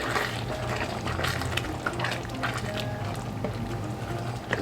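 Cheesy Italian shells Hamburger Helper being stirred in a pot of simmering sauce, a soft wet bubbling and sloshing with light spoon scrapes, close and steady, with no talking.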